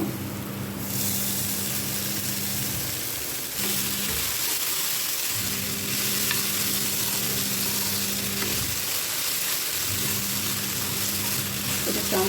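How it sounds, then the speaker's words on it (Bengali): Cashews with chili and salt fry in a pan, giving a continuous, even hiss of sizzling oil. A steady low hum runs underneath and cuts out briefly a few times. "কাজু দিলাম লঙ্কা দিয়েছি একটু এটাকে ভালোভাবে ভেজে নিচ্ছি"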